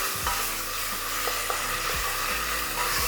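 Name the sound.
grated ginger and garlic sizzling as they are stirred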